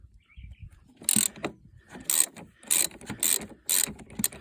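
A ratchet works loose the negative battery terminal on a Rover engine during a head gasket job, producing rapid metallic clicking strokes in about five bursts with short gaps, close and clear with no talking.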